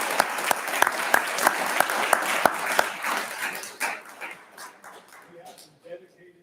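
Applause at a city council meeting honoring long-serving city staff, police and fire: sharp claps for about three seconds that taper off into scattered noise, with a dog yipping and whimpering faintly.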